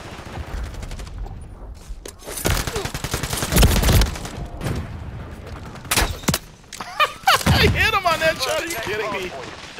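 Rapid bursts of gunfire from the Call of Duty MW3 hardpoint match ring out loud and close, with clustered shots and a few heavier booms, mixed with a player's excited talk and game chatter.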